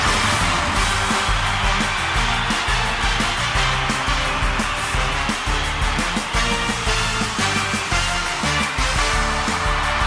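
An upright Eureka vacuum cleaner with extra suction power runs in a 1978 television commercial, giving a continuous loud motor whine and whoosh mixed with music-like tones for the full duration.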